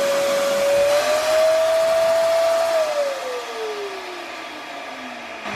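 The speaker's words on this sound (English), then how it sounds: "I'll vacuum this out and we'll get a good idea of how much lint's in there" A vacuum cleaner sucks lint out of a clogged dryer vent duct, giving a loud continuous whir whose pitch holds and then slowly drops as the airflow changes.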